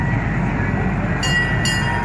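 A zoo train at the Albuquerque zoo rumbles past, a loud, steady rolling drone joined by two short high-pitched squeals or horn blasts near the end.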